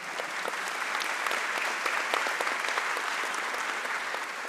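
Sustained audience applause closes a panel session at a government congress, dense steady clapping from a large hall crowd with no one talking over it.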